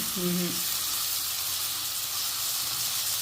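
Onions and tomatoes sautéing in a pan with a steady, close frying sizzle and hiss, and a brief voice speaking at the start.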